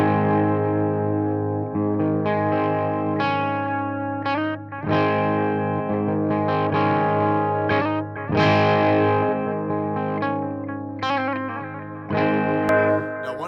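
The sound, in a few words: electric guitar through Marshall Vintage Modern amp with slap delay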